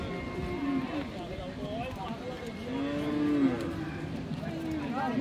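A Friesian dairy cow with a calf lows at an outdoor cattle market in Dinajpur, several drawn-out moos rising over constant crowd chatter and voices nearby.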